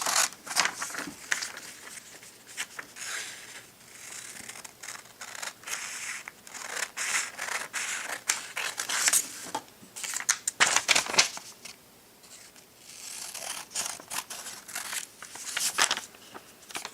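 Scissors snip through a paper printout in quick, repeated crisp cuts with brief pauses and some paper rustling, close and fairly loud.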